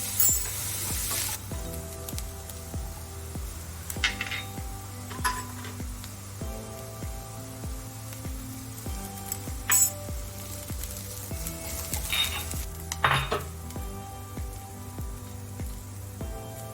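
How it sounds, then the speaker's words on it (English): Chopped onion sautés in hot coconut oil in a pan with a soft, low sizzle, broken by occasional light clinks of a utensil against the pan over a steady, faintly rhythmic background. "In another pan, heat coconut oil. Saute the chopped onion, adding little salt, chilies and ginger garlic paste."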